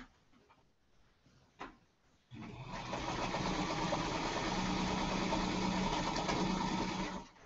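Sewing machine running continuously for about five seconds as it stitches a seam in a quilt block, preceded by a few quiet handling clicks, steady and close with a whirring motor drone.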